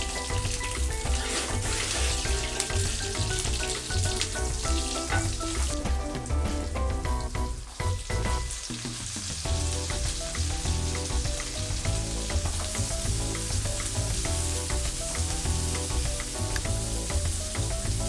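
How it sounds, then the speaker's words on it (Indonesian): Fried rice sizzles in chicken oil in a hot pan, a dense continuous crackle with occasional scraping and stirring, steady and close, no voices heard. "saya pakai minyak ayam sebagai minyak dasar untuk buat nasi goreng ini."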